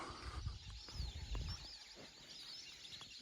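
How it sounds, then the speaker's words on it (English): A busy chorus of birds calls and chatters across open wetland at Mamukala, Kakadu National Park, in July, with honking and clucking cries layered over faint wind noise. "I can hear a lot of bird life, that's for sure."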